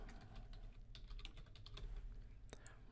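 Typing on a computer keyboard while entering names into a roster, with steady bursts of key clicks close by over a low background hum and no speech.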